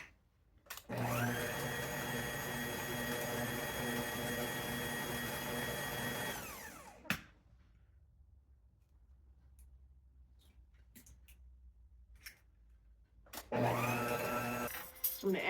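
Electric mixer whips butter and eggs for a sour cream coffeecake batter: a loud, steady motor whir for about six seconds, then near silence with faint clinks, before the mixer starts up again at the end.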